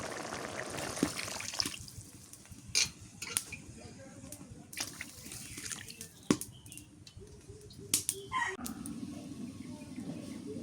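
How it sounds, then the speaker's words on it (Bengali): Water poured into a pan of frying fish curry to make the gravy, a steady watery hiss with scattered clicks and splashes, fairly close and moderate in level. "ঝোলের পানি দিয়ে দিই।"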